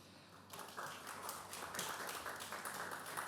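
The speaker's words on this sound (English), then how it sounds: "a round of applause" Audience applause at a film press conference, steady dense clapping that swells slightly and continues throughout, fairly close and filling the room.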